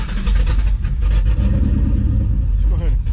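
A nitrous-injected New Edge Ford Mustang engine turns over and runs, a loud, close, low rumble with uneven revving pulses.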